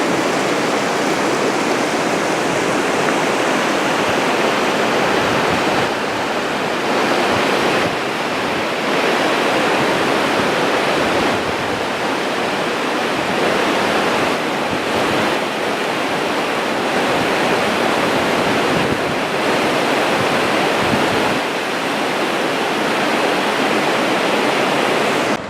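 A mountain creek flowing between two lakes near Thompson Peak in the Trinity Alps rushes steadily and loudly, a close, continuous roar of water with no voices.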